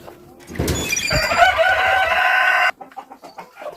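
Brooding hens give loud, close clucking and squawking calls in a short burst of a few seconds, which cuts off abruptly and leaves quieter rustling.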